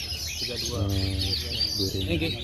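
A kacer (magpie-robin) sings a series of clear, tonal chirps and warbling phrases at a songbird competition, fairly close, with a steady background hiss underneath.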